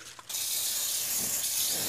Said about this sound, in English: I just spray it to loosen up everything.